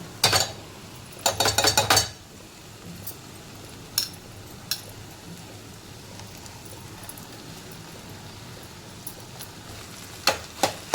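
Crumbled leftover rice and torn chapati are stirred together in a pan, sharp metallic scrapes and clinks of a spoon against the pan coming in a quick cluster, then scattered single taps over quiet frying.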